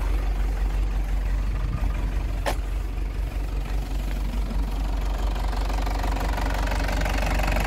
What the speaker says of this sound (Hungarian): Beindult a jó kis Euro 2-es turbodízel.